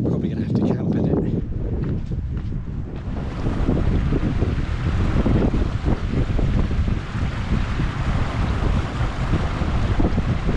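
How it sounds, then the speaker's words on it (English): Strong wind buffeting the microphone on a hike along the Cumbria Way near Skiddaw House over Easter, a loud, continuous rumbling roar that gusts and swells throughout, with a voice talking briefly early on. "I hope it doesn't get much windier than this"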